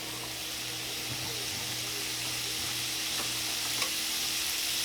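Red pepper dropped into a sizzling hamburger mixture for chili, a steady hiss of frying with faint stirring scrapes and small pops, fairly quiet and without talk.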